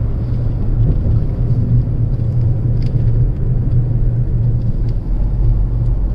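A 2020 Maruti Suzuki Ignis takes a bend at around 50–60 km/h, heard as a steady low engine and road rumble with tyre and wind noise, continuous and close, with no talk.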